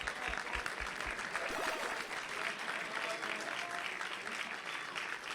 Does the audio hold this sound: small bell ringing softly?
no